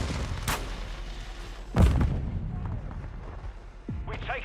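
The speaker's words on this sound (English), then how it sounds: "Throwing stun grenade." A stun grenade bursts in a military shooter video game, with a sharp loud bang rising out of ongoing gunfire and battle noise, while voices talk throughout.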